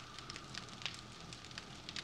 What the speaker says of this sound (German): das Feuer brennt noch, bis das Wasser fertig ist